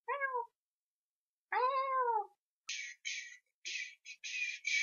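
A flat-faced cat gives two clear, close meows, then a run of short raspy bursts, with silence between each call.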